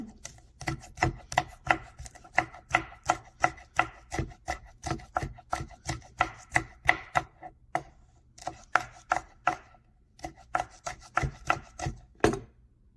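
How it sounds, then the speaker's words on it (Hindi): Chilies are chopped with a knife on a board in a long run of steady, evenly spaced sharp knocks, close and distinct. A short pause breaks the rhythm midway before the chopping resumes. "ये 4-10 में मिर्ची ले ली, अभी इसको काटेंगे इस तरह"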